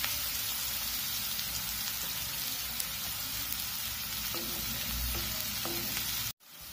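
Onions and green chillies fry in a pan with a loud, steady sizzle that runs continuously, ending in a sudden brief cutoff.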